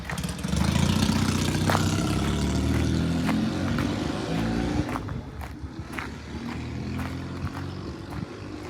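A Triumph T100 500cc motorcycle engine drones steadily as it rides away into the distance, loud at first and then easing slightly, with faint clicks and rattles scattered over the low rumble.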